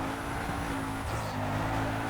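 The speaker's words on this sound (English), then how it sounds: "not used to drifting in this game" Car engine and tires in Need for Speed Carbon while drifting in a canyon challenge, a steady droning engine with tonal whine and faint tire hiss running throughout.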